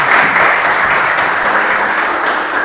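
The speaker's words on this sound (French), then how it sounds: "Merci de l'applaudir également." A studio game show audience applauds a contestant with dense, steady clapping close by, holding at an even level throughout and fading only slightly at the end.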